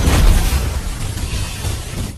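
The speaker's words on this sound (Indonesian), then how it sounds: "ia pun segera melepaskan ledakan energi dari teknik gerbang ajaibnya agar bisa segera mengakhiri pertempuran" An energy blast explodes in a fantasy film, a loud booming burst that rolls into a deep, sustained rumble, strongest at the start and slowly thinning out.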